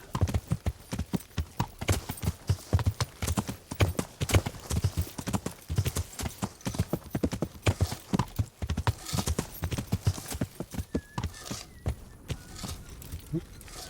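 Horse hooves clip-clopping in Kingdom Come: Deliverance, a steady close rhythmic trot of sharp knocks running throughout, with a brief whinny near the end.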